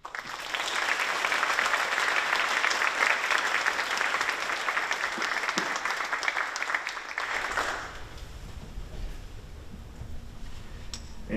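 A lecture hall audience applauds after a university professor's final lecture, a sustained, even wash of many hands for about seven seconds before it fades into quiet room tone.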